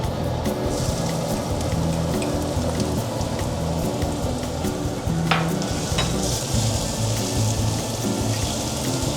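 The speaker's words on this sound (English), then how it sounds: "And we're gonna go and fry our ginger." Ginger fries in sesame oil in a pan for mapo tofu, a loud, continuous close-up sizzle and crackle with a few stirring scrapes and no talking.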